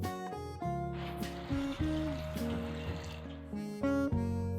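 Water pours steadily into a pressure cooker holding soaked dried peas, a soft trickling splash running for a few seconds under background music.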